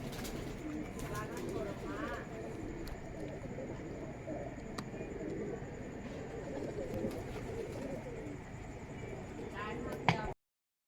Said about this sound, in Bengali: এই এক জোড়া কবুতর আছে